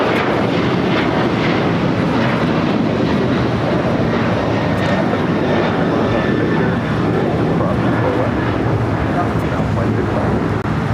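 A Boeing 737-700 airliner arriving at LAX from Las Vegas gives a loud, continuous broadband jet roar that holds steady throughout, with faint talk beneath it.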